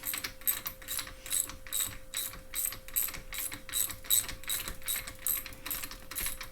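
A ratchet clicks steadily in a regular, close rhythm while a 19 mm wrench spins the cap off a KTM WP dual-chamber motorcycle fork.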